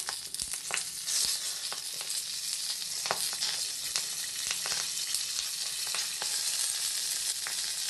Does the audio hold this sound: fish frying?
yes